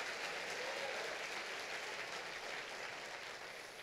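Church congregation clapping in praise to the Lord, a dense, steady wash of applause filling the whole stretch, loud and continuous with no voices standing out.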